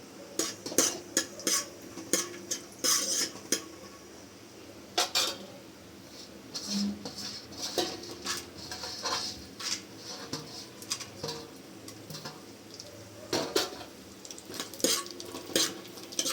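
Cashew nuts and other dry fruits frying together in a pan for semiya payasam, with repeated sharp metallic clinks and scrapes of a utensil against the pan over a faint sizzle, close and irregular.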